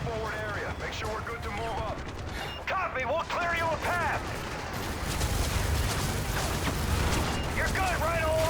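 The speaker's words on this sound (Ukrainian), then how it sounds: "хто там стріляє" Rapid bursts of gunfire and booming blasts rattle continuously through a noisy Call of Duty: Modern Warfare 3 battle, with voices and synthetic tones mixed in over dense background rumble.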